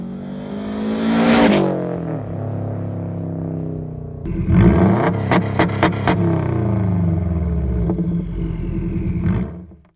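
A 2008 Subaru Legacy GT Spec B revs hard and accelerates. The engine note rises, then surges through quick gear changes, loud and close with a throaty roar and no talk.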